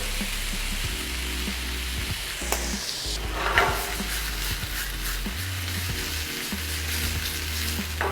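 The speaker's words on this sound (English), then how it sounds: "Once our beef are perfectly seared, turn off the flame and drain it." Beef brisket seasoned with salt and black pepper searing in a hot pan, giving a continuous close sizzle with crackling spatter, and a few scraping stirs and clanks in the middle.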